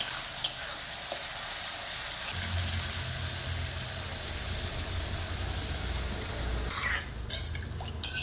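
Fried masala for a hilsa and eggplant curry sizzles in the pan as water is poured in, a steady frying hiss with a bubbling surge midway, close and moderately loud, with no talking.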